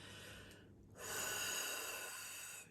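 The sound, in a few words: taking a deep breath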